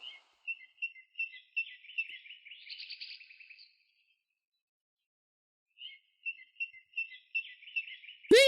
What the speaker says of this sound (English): Hey, look at the bird go.